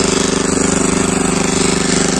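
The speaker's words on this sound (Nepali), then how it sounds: "मेसिनले ठुलो ठुलो गराहरू बारीहरू चाहिँ जोत्न एकदम सजिलो" A power tiller ploughing a terraced hillside field, its engine chugging loudly and steadily with a fast rhythmic pulse, close and continuous throughout.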